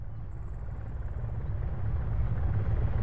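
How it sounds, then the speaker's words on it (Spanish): Helicopter passing overhead in the video game Arma 3, a low rotor rumble growing steadily louder and nearer with no talk. "Helicóptero pasando por encima."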